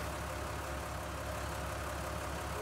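Ford tractor in Farming Simulator 19 running steadily under a heavy load, a constant low engine drone at even volume with no talk.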